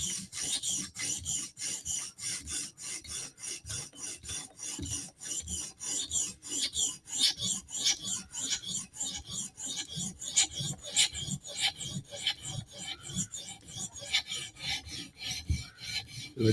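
A Spyderco Slysz Bowie knife edge is drawn repeatedly across a sharpening stone, giving a close, rhythmic rasping scrape with a stroke roughly every third of a second, steady and unbroken throughout with no talking.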